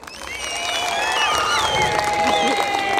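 Crowd at a ranch-style rodeo in Acatepec applauds and cheers, swelling quickly and holding loud, with whistles and shouts mixed into the clapping.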